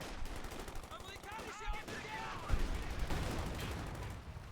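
Gunfire and explosions in a World War II–style video game match, with rapid bursts of shots and heavy blasts mixed together, fairly dense and mid-distance, while a commentator's voice talks over the action.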